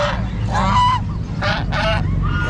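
Several loud honks from a goose for sale at a pet market in Baliuag, repeated calls over a steady low crowd and engine rumble.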